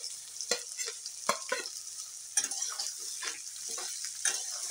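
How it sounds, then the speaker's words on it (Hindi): Onion and jackfruit pieces hit hot oil in a pan for a Hindi-style jackfruit curry, giving a steady close sizzle and hiss with sharp spatters and stirring clicks, no talk. "और प्याज के साथ ही हम कटहल को भी डाल देंगे।"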